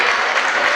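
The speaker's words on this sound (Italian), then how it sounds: "la Marca Futsal che si prende gli applausi del pubblico" Spectators at an indoor futsal match between Antenore Sport Padova and Marca Futsal Montebelluna applaud, a loud, dense wash of clapping filling the short moment.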